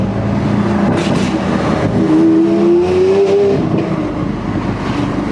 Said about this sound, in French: Écoute, écoute les retours à bas régime.